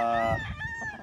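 A gamecock rooster on a large breeding farm in Lipa City, Batangas, crows nearby, one loud, drawn-out call with a clear ringing tone that trails off at the end.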